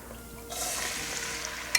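Two pounds of Spanish onion go into hot fat in a pot for New England clam chowder, setting off a steady sizzle that starts partway in and holds loud and close, with a brief clatter near the end.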